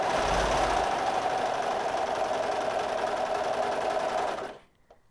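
A Brother 1034D serger stitches along a fabric edge, a steady fast mechanical whir running close and loud for about four seconds before it stops abruptly.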